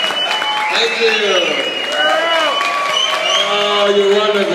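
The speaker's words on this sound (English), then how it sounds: "Don't you really listen to that Dallas crowd?" A Dallas audience at the Granada claps and cheers at a concert, with steady loud applause and whoops sustained throughout, close and full.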